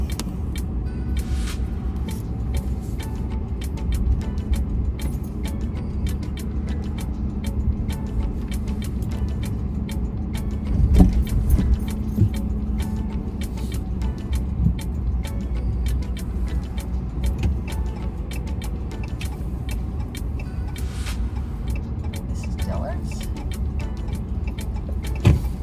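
A truck pulls into the Kenwood Mall lot to park, its engine a steady low rumble close by, with scattered clicks and small knocks throughout and a louder thump near the middle.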